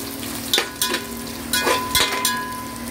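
Ginger and garlic sizzling in hot oil in a pan for vegetable biryani, with a steady frying hiss and a few brief stirring scrapes and clatters close up.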